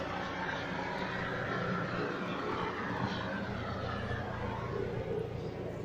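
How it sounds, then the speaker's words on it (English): A yellow helicopter flies overhead toward a hospital, producing a steady, broad engine and rotor roar that holds at a moderate distance throughout with no talk. "helicopter"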